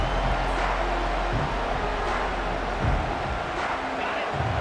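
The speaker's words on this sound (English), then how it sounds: "This crowd trying to show them what it's going to be like all day in this house." A large stadium crowd at an NC State versus Alabama college football game keeps up a steady, dense roar, swelling slightly at moments and filling the whole background.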